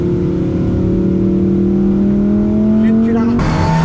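Ferrari in second gear, engine droning steadily and loud as it rolls and builds speed, with a rising tone and a brief shift near the end; people talk over it.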